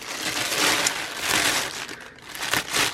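Plastic packaging from cross stitch kits crinkles and crunches close up in irregular bursts, loud and continuous for a few seconds with no talking.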